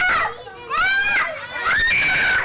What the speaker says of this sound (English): He loves screaming babies.